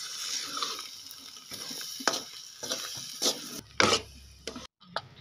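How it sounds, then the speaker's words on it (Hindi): A spoon scraping and stirring desi ghee in a pan, with soft sizzling and intermittent clinks and scrapes, close and fairly quiet, with no talking. "दो खाने के चम्मच इसके अंदर देसी घी डाला है। चम्मच इसका बराबर हिलाते रहें।"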